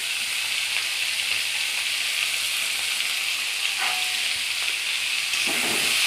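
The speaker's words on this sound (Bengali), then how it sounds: "সিমগুলো আর মাছের মাথাগুলো দিয়ে দিলাম একসঙ্গে।" Broad beans and fish heads fry in tempered oil with turmeric, a loud, continuous close sizzle and hiss with a faint stir or two and no voices.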